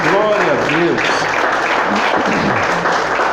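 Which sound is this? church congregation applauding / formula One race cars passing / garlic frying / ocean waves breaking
church congregation applauding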